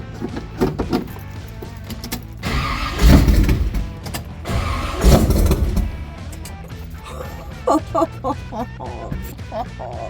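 A 1971 Chevy El Camino hot rod cranks and catches in a garage with a couple of loud surges, mixed with clicks and clunks, then settles to a rough idle. People talk throughout.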